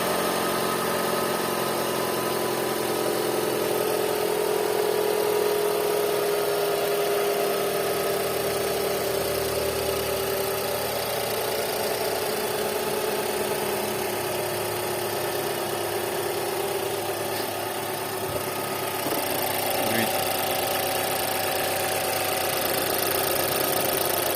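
A 2010 Mazda 6 2.0 petrol engine with 241,000 km idles steadily and evenly for a long stretch, a low constant hum with slight variations and no talking.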